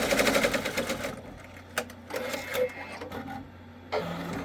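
An Avance embroidery machine runs automatically, stitching with a loud, rapid mechanical chatter that starts dense and steady, then thins into lighter whirring with a few knocks and a final burst of stitching near the end.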